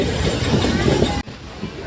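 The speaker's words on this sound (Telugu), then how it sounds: "మన ట్రైన్ అయితే లూప్ లైన్లోకి అయితే వచ్చిందండి" MEMU train on the Narasapur to Machilipatnam link entering the loop line at Kowtavaram station: a loud rumble and rattle of the carriages with rhythmic wheel clatter, dropping suddenly partway through, with voices mixed in.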